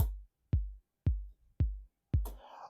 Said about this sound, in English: The first thing that I did is like get a kick